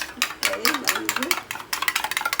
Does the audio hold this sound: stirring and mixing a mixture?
yes